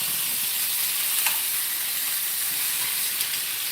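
Tri tip steaks searing in a hot pan, a steady bright hissing sizzle with a couple of faint pops and shifts as the meat is moved.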